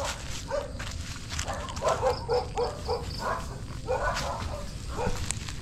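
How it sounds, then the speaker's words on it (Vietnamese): A dog barks repeatedly at night near a rural house, several sharp woofs and yips in irregular bursts against a steady hum of background noise. "chó nó hơi sủa xíu."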